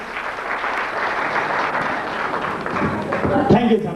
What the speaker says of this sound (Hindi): जोरदार तालियां दोस्तों प्लीज।